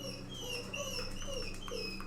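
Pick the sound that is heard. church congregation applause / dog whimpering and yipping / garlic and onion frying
dog whimpering and yipping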